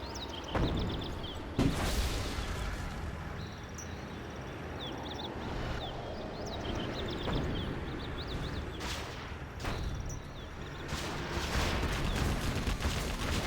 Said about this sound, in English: It does have the chain gun Gats.